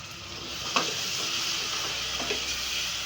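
Onions sizzle and fry in a pan for a vegetable kaddu dish, a steady close hiss with a few soft scraping stirs breaking through.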